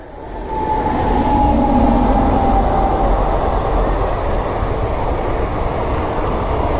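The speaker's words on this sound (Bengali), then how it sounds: "আর ওই যে ওপর দিয়ে ট্রেন যাচ্ছে" Train rumbling overhead on an elevated line near Khirai, heard from the road below as a steady, loud, continuous roar that builds quickly and holds for several seconds.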